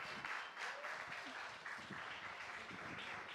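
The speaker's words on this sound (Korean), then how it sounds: "우리 오상고등학교 친구들을 박수로 맞아주시기 바랍니다." A crowd applauds steadily as a high school team from Osang takes the stage at a regional youth competition, the clapping dense and continuous throughout.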